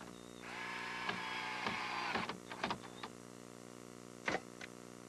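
Screws are driven into a 2x4 nailer for a hexagonal gazebo with a whining power driver that runs for a couple of seconds. Scattered clacks and knocks follow, then one louder knock near the end, close up, over a steady machine hum.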